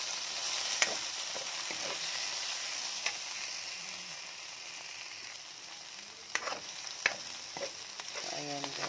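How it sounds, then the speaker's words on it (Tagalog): Corned beef frying in a pan, a steady soft sizzle with occasional clinks and scrapes of stirring, close and fairly quiet, no talking. "nilagay ko na yung ating corned beef"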